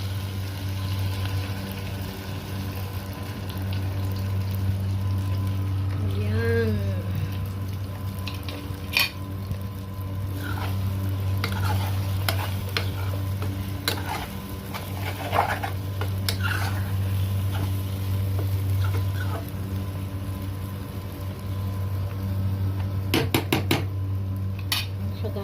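A utensil scrapes and clinks against a pan as eggs are stirred and fried with bitter gourd (ampalaya), over a steady low kitchen hum, with scattered taps throughout.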